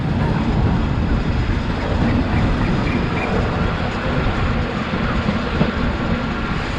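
Train ride around Yangon, Myanmar, passing wooden barrack houses: a steady, loud rumble of rolling railcars fills the whole stretch, with faint wheel clatter and no clear speech.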